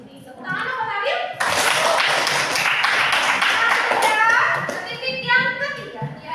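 A classroom of children bursts into rhythmic hand clapping after a short spoken lead-in, loud and close, with kids' voices chattering before and after the clapping.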